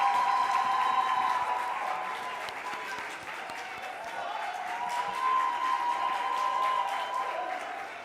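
Audience applause fills a hall as debate teams walk up to the platform at a public sector debate competition grand final, steady dense clapping with crowd noise, continuous and fairly loud throughout.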